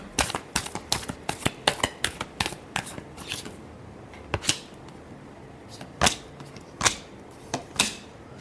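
A deck of tarot cards is shuffled by hand, with quick bursts of crisp riffling snaps, a short pause, then a few louder, separate flicks, close and clear.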